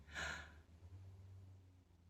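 A single soft breath, a quick audible exhale or sigh near the start, followed by quiet low background hum, faint and close.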